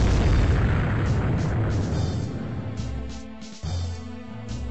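A loud, rumbling blast from an RPG rocket in the Flash game Heli Attack 2, with a sustained low boom that rolls on for several seconds before a brief dip and a second swell of noise.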